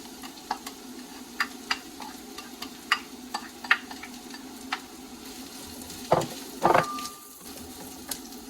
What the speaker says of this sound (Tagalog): Kailangan muna nating igisa yung onion dito sa pan with oil.